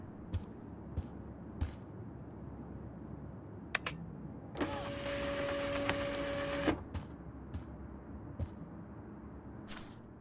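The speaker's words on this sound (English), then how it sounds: "Now I have to print this fast and get the hell out of here." A printer in the video game Life Is Strange prints an email: a two-second whirring mechanical run with a steady motor tone, flanked by short clicks and taps before and after, quiet and close with no talk.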